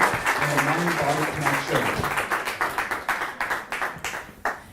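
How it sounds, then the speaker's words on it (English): Excited audience applause at a yoga therapy talk, dense clapping that thins into scattered claps toward the end, with a few voices cheering over it. "Huge, round, excited group of applause for Shivani."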